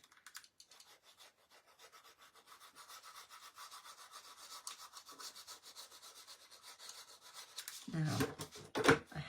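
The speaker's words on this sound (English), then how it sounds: "Give it a really good burnish down." Paper being rubbed and burnished down onto an album page in a papercraft project, a soft rhythmic rasping that strokes steadily and grows louder toward the end, with a few sharper scrapes.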